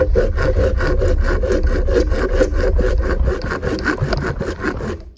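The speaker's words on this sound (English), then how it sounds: "I have this saw, which is kind of like medium-sized teeth, I guess. Gonna cut right through." Medium-tooth hand saw cutting through plastic pipe, a steady rapid back-and-forth rasp of regular strokes, close and loud throughout with no talking.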